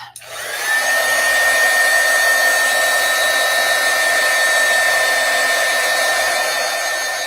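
A hair dryer runs steadily and loudly to dry ink on a rubber-stamped card. It starts after a brief moment and keeps a constant whine with no talking.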